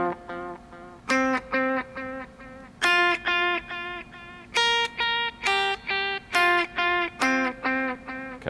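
Electric guitar run through an Axe-Fx with a dotted eighth note delay, clean picked notes each followed by rhythmic repeating echoes, played alone and close.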